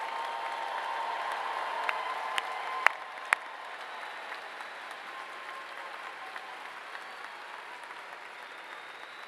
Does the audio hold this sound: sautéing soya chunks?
no